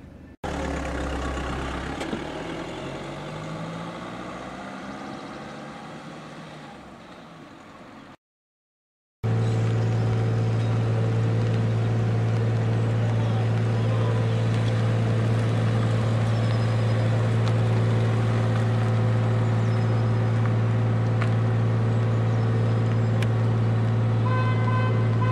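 A car driving along a road, heard from inside as a steady engine drone and road rumble, with a horn toot early on and a brief drop to silence before the hum continues evenly.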